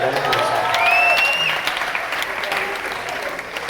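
Audience applause at a comedy show in Bujumbura: dense, steady clapping from a crowd fills the whole stretch, with a brief whistle riding over it early on.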